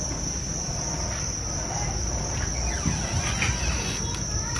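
Farmed crickets chirp in a dense, continuous, loud chorus, a steady high trill with no pauses throughout.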